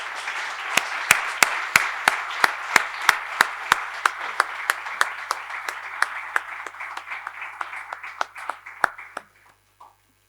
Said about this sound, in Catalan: nosaltres des d'aquí li podríem dedicar un sentit aplaudiment